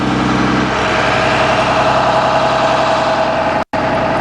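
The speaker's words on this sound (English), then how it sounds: "2009 Bluebird All-American front engine FE with that Cummins humming under the hood right there." A 2009 Blue Bird All American front-engine school bus idles with its Cummins diesel, a steady close hum with a constant low drone that runs without a break, cut only by one very brief dropout near the end.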